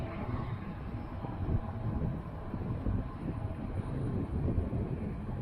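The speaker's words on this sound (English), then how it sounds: "It's a little bit windy." Low, rumbling wind buffeting a microphone during a night bike ride, continuous and gusty throughout, with no voices.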